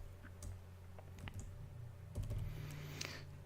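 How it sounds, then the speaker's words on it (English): Quiet tapping of computer keyboard keys, typed with one hand, a few sparse irregular clicks over a faint background hum, with no talk. "Typing with one hand here."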